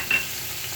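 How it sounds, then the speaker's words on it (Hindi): Chopped garlic and ginger frying in a pan while making chicken fried rice, a steady close sizzle with a brief stir near the start, no talk. "एक मिनट तक फ्राई करेंगे।"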